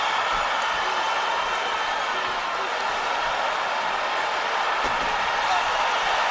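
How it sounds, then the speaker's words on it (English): Arena crowd at the UFC fight between Silva and Weidman, a loud, constant roar of cheering that fills the whole stretch without pause, with a faint commentator voice mixed in. "Listen to this crowd."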